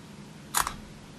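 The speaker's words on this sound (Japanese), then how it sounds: "これはですね、チーズかスマイルかウイスキー、キムチ、LG、どれか言うとシャッターを切るよと。" Camera shutter sound from an LG G Flex 2 phone, triggered by voice command: a single short crisp click with a second faint tick right after, alone in a quiet room.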